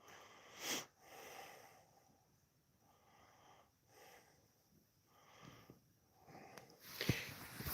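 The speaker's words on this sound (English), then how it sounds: "Yoda, I heard that sniffle" A cat sniffles and snorts indoors, with short breathy sniffs in separate bursts and a louder snuffle near the end, fairly close and quiet.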